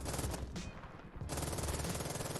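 Automatic weapon fire in the World War II mobile shooter Polyfield, loud sustained bursts with a short gap partway through before the rattle resumes, no voices.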